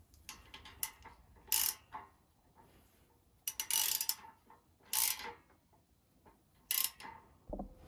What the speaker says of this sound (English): I'm going to be using my same ratchet with a 17 millimeter socket to tighten them down.